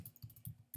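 Computer keyboard keys tapped at a desk while entering a new race event, a quick run of soft, close clicks in a rapid uneven rhythm, fairly quiet.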